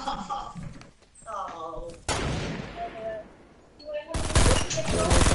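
Gunfire in the Star Wars Battlefront video game: loud bursts and rapid shots crackle in several clusters, with a player talking over the action.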